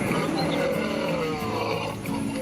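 A cartoon tiger roars in a Barbie doll story scene where it attacks and carries off a goat, a loud, sustained growling roar filling the clip from start to finish.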